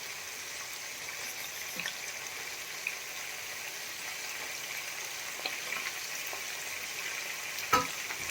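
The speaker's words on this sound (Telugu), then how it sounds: "కొంచెం ఫ్రై చేసుకున్నామండి." Tomatoes are frying with mutton masala for mutton yakhni pulao, producing a low steady sizzle with a few faint stirring clicks and one sharper knock near the end.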